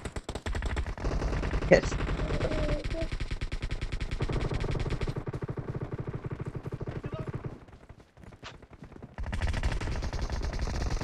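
Rapid, loud gunfire bursts in an 8vs8 team deathmatch video game, with sustained firing, a short lull and then more shots, while a voice speaks briefly over the action.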